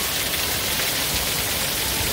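Heavy rain drums steadily on a house roof in San Diego, heard from indoors, a dense, constant roar of water with no pauses, loud and close throughout.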